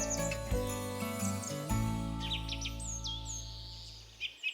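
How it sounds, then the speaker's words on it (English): A short cheerful early-bird jingle for a TV sewing shopping show, with bright tinkling chimes and synthesized chirping bird calls over sustained tones, ending in a few quick tweets. "Love that little jingle. How cute is that?"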